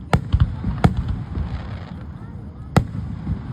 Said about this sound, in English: There's fireworks all across the nation.